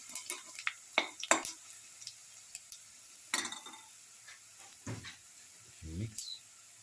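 Fennel seeds stirred in a pan, with light scraping and clinking of a utensil against metal in short bursts and a faint sizzle in the background.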